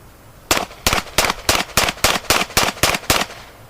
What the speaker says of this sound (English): Held the gun out with two hands, aimed at the target, fired off 10 shots as fast as he could.